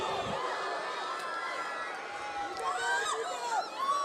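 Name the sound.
students clapping and cheering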